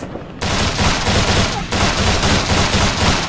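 Sustained automatic rifle fire in the tactical shooter Rainbow Six Vegas, loud and dense bursts of rapid shots running almost continuously after a brief quiet start, with a short dip partway through.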